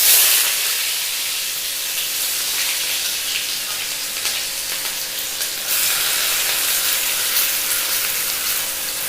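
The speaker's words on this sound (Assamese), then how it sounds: "আদা নহৰুখিনি ভালদৰে ফ্ৰাই হৈছে" Ginger and garlic fry in hot oil, a loud close sizzle with a steady hiss that runs on without a break, swelling slightly partway through, and no voices.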